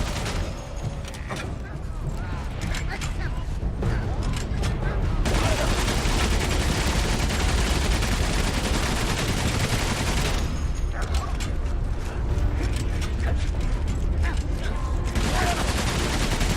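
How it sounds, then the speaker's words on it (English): Sustained heavy gunfire from a machine gun nest in the World War I game Valiant Hearts, loud and continuous with dense rapid bursts, briefly thinning before swelling again near the end. "And there is, of course, an MG nest."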